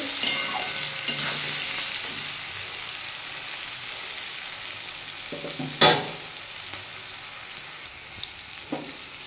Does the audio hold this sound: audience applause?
no